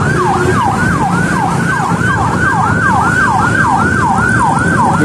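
A loud wailing fire truck siren sweeps up and down in a steady rapid cycle, close by, over low traffic rumble.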